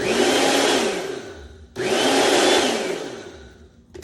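A Goelunmy blender and food processor combo's motor whirs loudly in two chopping bursts, each winding down in pitch before a short pause, with a small click at the end.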